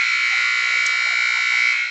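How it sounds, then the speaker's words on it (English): A gym buzzer sounds before a high school volleyball match between Mesabi East and Ely, one loud, steady electronic drone held for about two seconds without a break. "And there's the buzzer going off."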